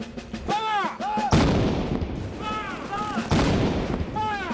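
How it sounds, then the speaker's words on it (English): Ceremonial gun salute fired at the Tower of London for the state opening of Parliament: two loud, heavy booms about two seconds apart, each rolling out over continuous background noise while a voice narrates. "the tower marks the occasion with a gun salute"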